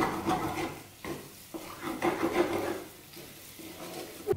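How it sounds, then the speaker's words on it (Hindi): Moong dal halwa is stirred in a pan as it roasts on low heat, giving close, uneven scraping and rubbing strokes with soft sizzling between them. "इसे हम चलाते रहेंगे।"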